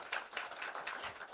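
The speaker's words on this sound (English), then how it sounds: "and big applause for him as well, please" A conference audience claps for a speaker at an innovation event, scattered uneven handclaps fairly faint and distant, with no talk over them.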